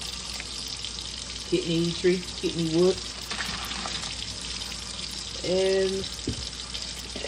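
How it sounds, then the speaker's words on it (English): Ordinary tap water runs steadily from a kitchen faucet, a continuous close splashing hiss heard throughout while someone speaks over it in short bursts. "my water is just letting that regular tap water run right there"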